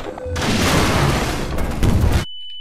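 A rocket explodes in Half-Life 2: Episode Two, a loud, close roaring blast that holds for about two seconds, then cuts off abruptly to near silence.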